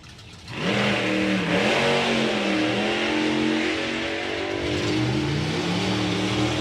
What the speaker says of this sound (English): This is an 8-second race car.